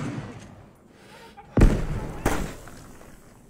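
A frag grenade goes off inside a room in the game Arma 3 with a sharp, loud blast. A second, smaller bang follows soon after over a quieter background.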